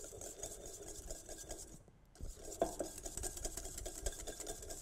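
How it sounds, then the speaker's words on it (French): Butter being whisked by hand in a mixing bowl, with a steady run of quick metallic scrapes and taps from the whisk against the bowl. The strokes are close and continuous, with a short pause midway. "je vais commencer au fouet à faire revenir mon beurre tranquillement"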